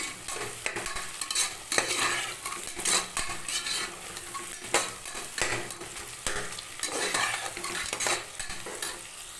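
Onions and green chillies sautéing in a pan for crab biryani: a steady sizzle with repeated scrapes and clinks of a spoon stirring, close and moderately loud, with no talking.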